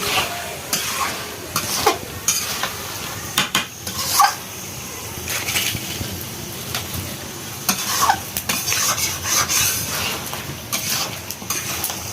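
Village-raised local chicken meat being stir-fried in a pot for a curry: loud, close sizzling with repeated scraping and clanking of a spoon against the metal pot, irregular stirring strokes throughout.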